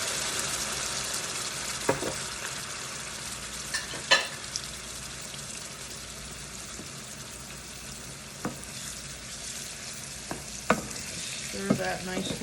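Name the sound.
apples frying in pan, being stirred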